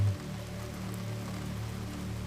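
Rain falls on a roof and windows, a constant soft patter and hiss that holds evenly throughout with no voices.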